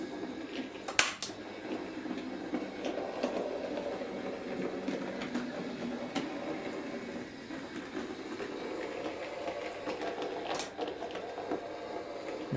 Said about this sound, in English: here we are with this Class 3 doing the sidings test